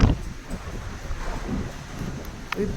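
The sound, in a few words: strong wind near the sea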